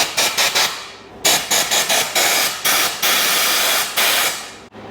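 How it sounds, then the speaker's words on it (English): Compressed air from an air compressor blasting through a motorcycle part in short loud hissing bursts, a quick run of brief puffs followed by several longer sustained blasts with short gaps between. "since we got the compressor fired up, we might as well blow through this"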